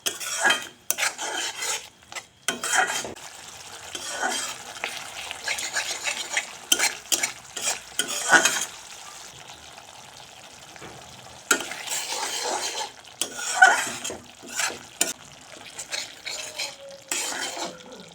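Fish curry masala with yogurt being sautéed in a pan for a Bengali rui kalia, a spatula scraping and stirring with soft sizzling and metal clinks, steady and close with short pauses, no talking.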